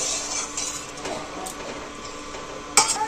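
Curry being stirred in a pot after salt goes in, soft scraping and clinking of a utensil against the pot with a sharper clink near the end, close and alone.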